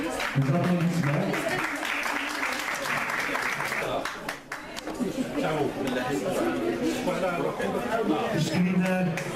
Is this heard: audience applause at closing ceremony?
yes